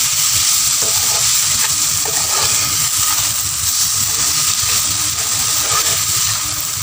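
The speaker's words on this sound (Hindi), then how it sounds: "एप्पल शामिल करके भी हम इसको अच्छी तरह से भून लेंगे।" Grated, peeled apple for apple halwa fries in a pan, giving a dense, continuous sizzle with soft stirring underneath, loud and close and unbroken throughout, with no voices.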